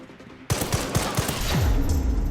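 A burst of rapid gunfire in the survival horror game Resident Evil Requiem, several loud, close shots in quick succession that break in sharply after a quiet moment and then roll into a dense, sustained barrage.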